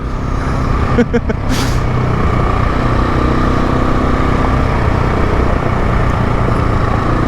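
A Honda 300L Rally motorcycle engine runs loud and close as a constant droning roar. It shows no clear rev peaks, and wind noise rushes over it throughout.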